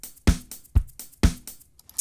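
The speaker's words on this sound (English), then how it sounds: "you made already your first beat" A simple drum machine pattern from Reason 11 loops at a steady tempo, with punchy kick hits alternating with crisp snare and hi-hat ticks, no voices.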